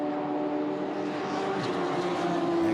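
A Radical sports car passes the start-finish line during an endurance race at Brands Hatch. Its engine drones steadily at close range with a sustained tone that swells slightly toward the end, and no voices are audible.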